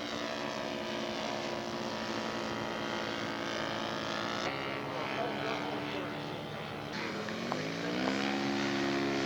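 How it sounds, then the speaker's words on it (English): A propeller-driven scale model Spacewalker airplane makes a flyby at a model aircraft show, its engine drone holding steady and then shifting in pitch as it passes, with a commentator talking over it. "Kelly Martin on his flyby."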